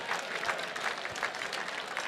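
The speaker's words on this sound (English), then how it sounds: "How about a big round of applause" A gala crowd applauds in a banquet setting, dense clapping from many hands, moderately distant and even across the short stretch.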